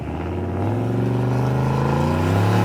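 A squatted truck with a custom lift kit and turbo launches on boost, its engine roaring loud and close in a low, steady, rising drone with no talk over it.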